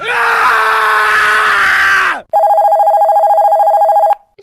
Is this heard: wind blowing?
no